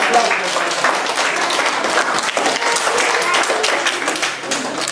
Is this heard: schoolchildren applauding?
yes